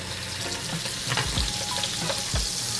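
A small square of butter sizzles and foams in a hot pan, a steady close crackle with a few soft scrapes and knocks from stirring.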